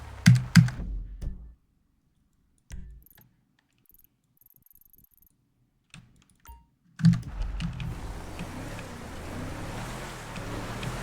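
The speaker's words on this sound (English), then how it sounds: "my keyboard is extraordinarily loud" Loud computer keyboard typing, close bursts of clattering keys separated by silent gaps, followed by a wash of ocean and wind sound from a game.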